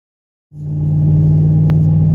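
A car running on freshly fitted tires during a test drive after a swap from summer rims, its engine starting up from silence into a steady low rumble that continues close and even.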